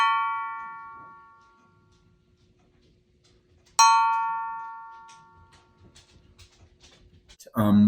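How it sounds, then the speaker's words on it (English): A bright, clear bell-like ring from a struck ceramic yarn bowl in a pottery studio, sounding twice and decaying slowly, with a quiet voice starting at the end. "I got this really bright, clear bell sound from this yarn bowl"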